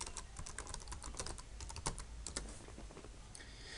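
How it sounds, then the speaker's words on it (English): Rapid typing on a computer keyboard while entering values into catalog software, a dense run of close, crisp key clicks with no voices. "here we're going to type in 4 and 4"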